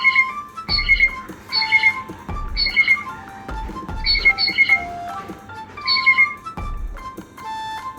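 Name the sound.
blue jay call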